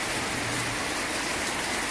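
Steady rain falls on a farm where chickens, ducks, geese and sheep are kept, a dense, even hiss of drops running without pause and with no voices.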